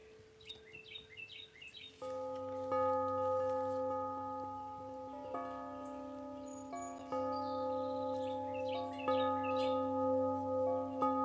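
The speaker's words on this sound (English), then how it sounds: "hear that bird talking?" Birds chirp outdoors in short, bright bursts near the start and again later, while wind chimes ring steady overlapping tones underneath throughout.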